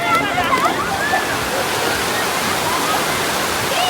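Fast-flowing river water at Kundamala rushes loudly and continuously, a dense, close roar of churning water, with indistinct voices blended into the noise.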